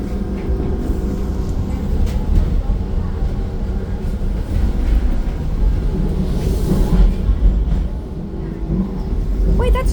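A TTC subway train on Line 2 near Kipling rumbles past with a steady, loud low roar and rolling rail noise lasting throughout, with faint voices mixed in.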